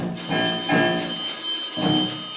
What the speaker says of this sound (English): Why is it that every time I try to tie you up, the phone rings?